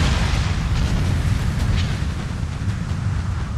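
Mortar fire and explosions on an Empire: Total War battlefield: a dense, continuous low rumble of booms and blasts with no clear gaps, loud and heavy throughout.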